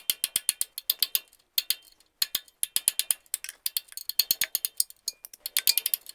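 A hand ratchet wrench works on the 5/8 flex plate bolts of a 1971 Cadillac Coupe DeVille, loud close clicking bursts in quick rhythmic strokes, pausing briefly between runs, with no talk.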